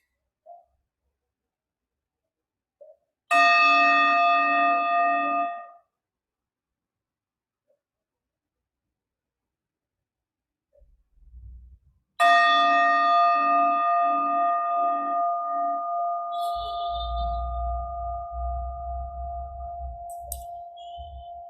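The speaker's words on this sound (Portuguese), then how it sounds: "Deixe que o som do sino seja um sinal para você relaxar" A meditation bell is struck twice, about nine seconds apart. Each strike rings out clearly and fades slowly into near silence, with a faint low rumble at the end.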